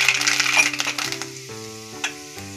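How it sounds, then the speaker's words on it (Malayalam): Fenugreek and mustard seeds dropped into well-heated oil for a Kottayam-style fish curry, sizzling and crackling up close at first, then settling to a quieter hiss with a few faint clinks. "ആ എണ്ണ നന്നായിട്ട് ചൂടായിട്ടുണ്ട്. അതിലേക്ക് നമുക്ക് ഉലുവ ഇട്ട് കൊടുക്കാം."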